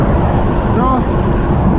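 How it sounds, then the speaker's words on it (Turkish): Steady wind roars across the microphone of a road bike on a ring road around Ankara, loud and continuous, with no clear speech. "Rüzgar şu anda solundan esiyor"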